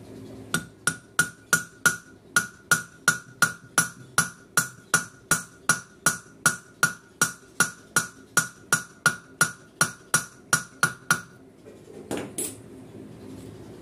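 A hammer strikes down on a washing machine pulsator to seat it, giving about twenty-five sharp metallic blows at a steady, brisk pace, close and loud, followed by a short scraping clatter.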